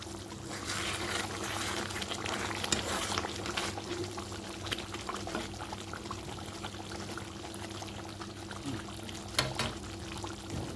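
Chicken leg pieces simmer covered in their own juices for a roast, giving a steady low bubbling with a soft watery hiss that runs unbroken and fairly quiet throughout.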